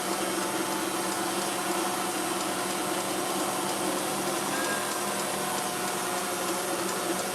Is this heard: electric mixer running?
yes